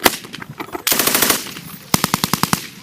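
Next-generation 6.8mm machine gun fires full-automatic bursts: a ragged opening run, a dense sustained burst, then a crisp rhythmic string of about ten rounds, loud and close.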